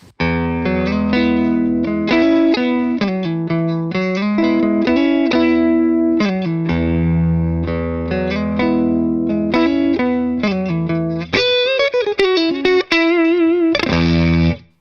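An electric guitar is played through its neck single-coil pickup with a clean tone. Sustained chords and melodic phrases ring out loud and alone, with a few brighter plucked notes near the end.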